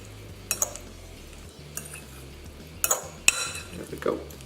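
A utensil stirs a lemon-herb marinade for salmon in a bowl, giving a few scattered clinks and scrapes against a quiet background, close up, with no one speaking.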